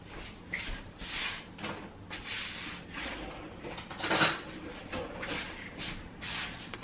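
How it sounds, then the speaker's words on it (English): Greek yogurt is mixed in a bowl, giving quiet, repeated scraping and clinking of a utensil against the dish in irregular strokes, with soft handling noises around it. "So I'm just gonna mix up the Greek yogurt a little bit here"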